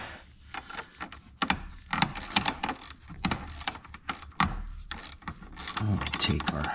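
A ratchet wrench loosens the 10 mm battery terminal bolt on a 2005 VW Passat B5, giving rapid, close bursts of clicking in uneven runs with brief pauses between them.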